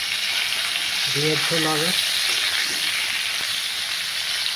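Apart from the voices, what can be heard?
potatoes frying in oil in a pan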